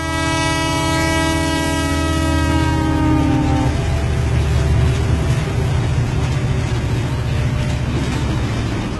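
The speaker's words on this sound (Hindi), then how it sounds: "तभी एक दूसरा ट्रेन इस ट्रेन के बगल से क्रॉस होता है" Cartoon train rumbling along at speed as a second train crosses alongside, a loud horn blast sounding for the first few seconds before a steady dense clatter and roar of wheels carries on to the end.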